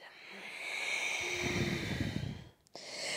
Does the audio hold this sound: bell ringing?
no